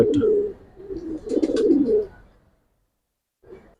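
Giribaz and silver Bagha pigeons coo in a low, close burst of throaty calls, then fall quiet before one short final coo.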